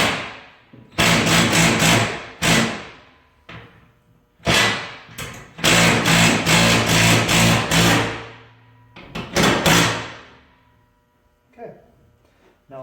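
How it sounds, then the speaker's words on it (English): A hammer drill fitted with a 3/4 socket tightens a bolt in loud, rattling bursts of hammering, several runs of a second or two separated by brief pauses, close and dominant. "So I'm going to use my hammer drill with the 3/4 socket."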